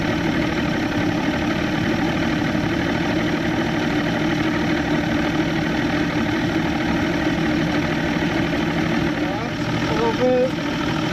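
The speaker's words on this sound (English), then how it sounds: "we're just idling out of the marina there" An Evinrude 150XP outboard motor on a McKee Craft boat idles out of a marina, a steady low engine rumble running throughout, loud and close with a few brief higher sounds near the end.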